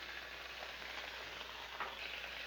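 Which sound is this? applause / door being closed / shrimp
shrimp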